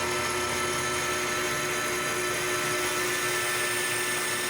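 A metal lathe runs steadily as a cutting tool faces a metal disc, a continuous whining hum with bright tonal ringing, close and unbroken.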